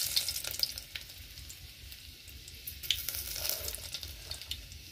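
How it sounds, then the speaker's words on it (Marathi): Garlic fries in oil in a pot over a wood stove in a village kitchen, a gentle, continuous sizzle with faint crackling pops and stirring throughout. "तर आता त्यामध्ये लसूण टाकते"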